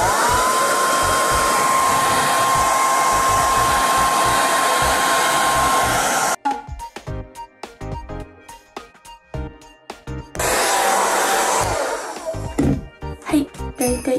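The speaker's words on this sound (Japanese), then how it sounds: "最初は温風で乾くまで乾かすんですけど、最後に冷風で乾かすのがポイントです。" Hair dryer blowing long hair dry, a steady loud whoosh with a faint whine for about six seconds, then quieter handling and brushing sounds, before the dryer's rush returns briefly near the end.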